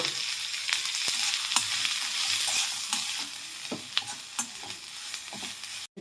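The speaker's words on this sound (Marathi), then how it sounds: "थोडंसं तेल टाकून भाजून घ्यायचं आहे बघा." Garlic and ginger roasting in hot oil in a pan for a puri bhaji curry, a steady close sizzle with scattered clicks and scrapes from stirring. It fades slightly near the end and stops abruptly, with no one speaking.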